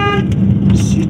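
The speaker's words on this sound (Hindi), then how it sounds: "सीटिया क्यों मार रही है गाड़ी राहुल" A car on a hill road near the Devta Maheshwar temple at Samarkot gives off a whistling tone over a steady close engine rumble, lasting about a second.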